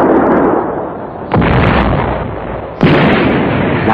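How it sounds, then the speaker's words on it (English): An ammunition ship hit in a bay explodes in deep, roaring blasts, a continuous loud rumble punctuated by two sharp new detonations that swell and then slowly fade, with no voices. "One night, in the bay, an ammunition ship was hit."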